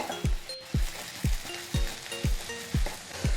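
Dried anchovies being lightly stirred in a pan for a spicy thokku, with a faint sizzle under a series of about seven regular clinking scrapes of a spoon against the pan, close and evenly spaced.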